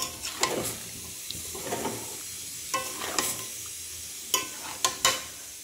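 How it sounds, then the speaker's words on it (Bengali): Meat stirred in a pan with whisked yogurt gives soft wet sizzling and sloshing, with several sharper scraping knocks of the spoon against the pan at irregular intervals, close up and without speech. "দই দিয়ে আজকে মাংস বানাবো, সেই জন্য দইটাকে গুলে দিয়ে দিয়েছি, দিয়ে একটু নাড়াচাড়া করবো"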